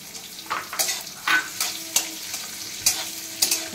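Green chilies dropped into hot oil after cumin sizzle steadily, with repeated sharp spatters and clinks of stirring at irregular intervals, close and fairly loud.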